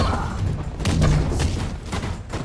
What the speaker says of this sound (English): Why are you shooting at me?